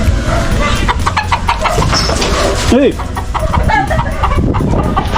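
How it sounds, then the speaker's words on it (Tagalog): Pet chickens sheltering in the shade from the rain cluck busily up close, and a person talks and calls out over them. "Ito po yung mga alaga kong mga manok."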